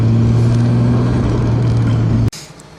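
A Nissan Skyline R33 with a straight-pipe exhaust idles with a steady, loud drone, then cuts off abruptly near the end.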